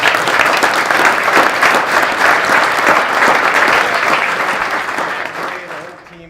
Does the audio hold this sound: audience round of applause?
yes